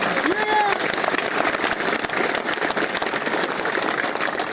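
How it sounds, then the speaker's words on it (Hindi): Loud crowd applause at a political office inauguration in Jhunjhunu, Rajasthan, dense continuous clapping filling the space, with a brief shout or cheer near the start. "मैं चाहता हूं झुंझुनू के नाम की जोरदार तालियां होनी चाहिए एक बार"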